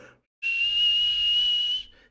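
A traffic officer's single long, shrill whistle blast signaling drivers to slow down, held steadily for over a second, close and loud, with brief quiet before and after.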